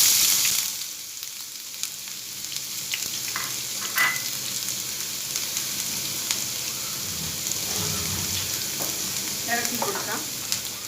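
Crushed ginger and garlic sizzle and crackle in a hot pan of popped mustard seeds, a steady close frying hiss with occasional stirring scrapes and no talking.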